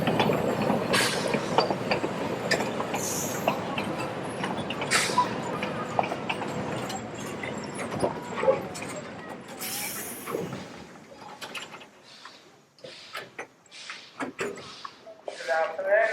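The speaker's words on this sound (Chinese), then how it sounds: "现在有火车开过来了。" Puffing Billy Railway steam train pulling into a heritage station near Melbourne, a rumbling mechanical roll with clanking and hissing bursts that fades toward the end, while people talk nearby.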